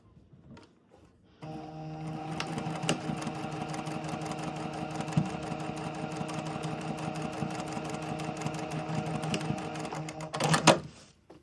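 A sewing machine tacks fabric pleats down within the seam allowance, running in one continuous, even mechanical whir of rapid needle strokes for roughly nine seconds, close and alone, bracketed by small handling clicks.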